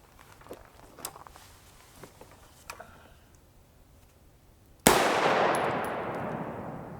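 A single loud rifle shot of an SS190 steel-tip, aluminum-core 5.56 round fired into a stack of pine boards, a sharp blast with a long decaying wash after it, preceded by scattered faint ticks and clicks.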